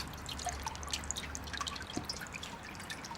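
Water trickles and drips into a small garden pond in winter, a steady close patter of many small irregular droplets over a low watery wash, heard alone without talk.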